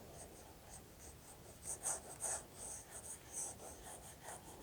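Pencil sketching on paper while drawing a cartoon figure of Hermione Granger, heard as soft, close scratchy strokes in short bursts over a faint background hiss.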